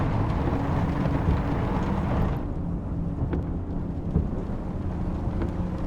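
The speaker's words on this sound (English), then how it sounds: "I really enjoy this calm driving in the rain, really." Steady heavy rain drums on a car while driving, with a broad rumbling wash that softens partway through; no voices.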